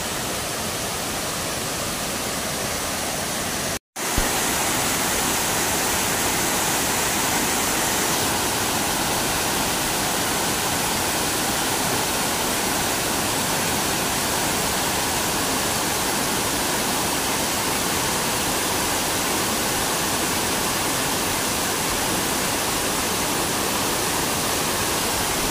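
Bantakay Falls in Sta. Catalina, a waterfall pouring in a constant dense roaring hiss, loud and unbroken, with one brief dropout near the start.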